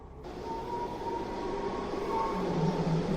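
Commuter train rushing through a dark tunnel, a steady loud roar of rails and wheels that builds slightly toward the end, with a faint squeal above it and no voices.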